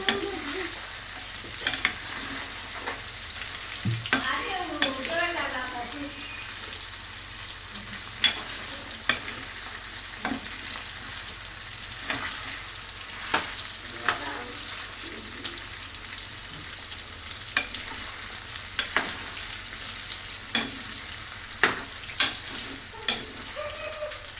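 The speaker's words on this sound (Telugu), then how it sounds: "లైట్ గోల్డ్ కలర్ వచ్చేదాకా వేయించుకోవాలి. ఈ కళ్ళు వచ్చేదాకా ఇలాగే కలుపుతూ ఉండాలండి" Chicken pieces for chicken pickle fry in a pan to a light golden colour while being stirred steadily, giving a constant crackling sizzle broken by sharp scraping clicks from the spatula, with no one talking.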